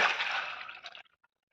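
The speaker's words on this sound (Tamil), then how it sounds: "ஊற வச்ச பருப்பில் தண்ணியை நல்லா வடிச்சுக்கலாம்" Water draining off soaked chana and toor dal, a brief close pouring splash that tapers over about a second into a few scattered drips.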